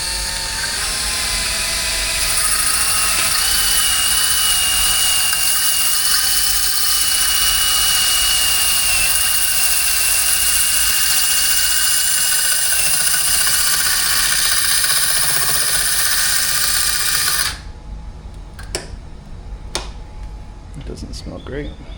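Drill fitted with a cutting attachment slicing through a pressure washer hose, a loud, steady high-pitched whine held for about fifteen seconds before it cuts off, followed by a few faint clicks and handling noises.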